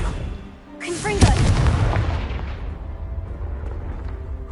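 A Confringo explosion spell goes off in Hogwarts Legacy, a loud booming blast with crackling debris that decays into a long rumbling tail, preceded by a character's voice.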